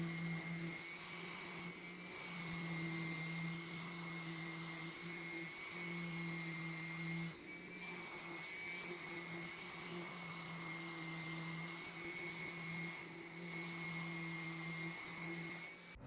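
An orbital sander rounds off holes on a mid-century modern dresser base, giving a steady, unbroken electric whine and hum that runs throughout, moderately loud and alone without talk.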